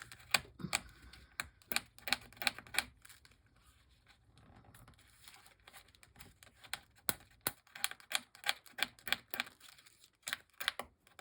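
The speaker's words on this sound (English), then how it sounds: "I also want to kind of rip this up a little bit" Paper is ripped up by fingernail in bursts of sharp, close ticking tears, a quick run of snaps, a quieter pause, then another dense flurry of small crackling rips.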